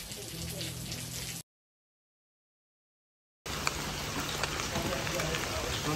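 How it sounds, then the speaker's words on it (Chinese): Heavy spring rain patters steadily on surfaces at a campsite in Nanzhuang, Miaoli, during a thunderstorm. The hiss breaks off into a short silence and then resumes, with people talking faintly underneath. "刚到营区就下大雨啊"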